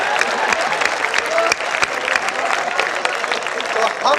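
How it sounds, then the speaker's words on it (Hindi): Audience applause at a Hindi kavi sammelan poetry event, a dense, loud wash of clapping that runs steadily through the whole stretch with a voice heard over it. "तालियां कम बजा रहे हैं आप"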